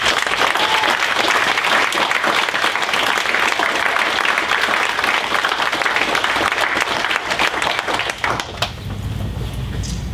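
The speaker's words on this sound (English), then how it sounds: "give your council that's here today a huge round of applause" Sustained applause from a town hall audience for the Dumfries town council, dense loud clapping that tapers off toward the end.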